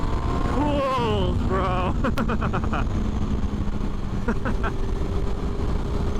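A 2006 Yamaha FZ6 motorcycle engine rumbles low and constant while riding, heavy with wind rush, as a rider talks briefly over it and faint higher tones rise and fall in the background.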